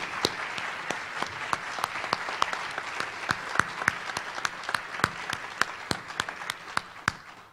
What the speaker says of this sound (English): So once again, a big round of applause for Brother Bob Schieler.